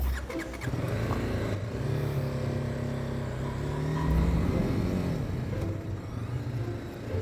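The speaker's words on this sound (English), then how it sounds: "What an embarrassing stall." Small agile vehicle stalls while meandering around Ballard, its engine sputtering and dying out after a few seconds of steady idle rumble, with faint street ambience around it.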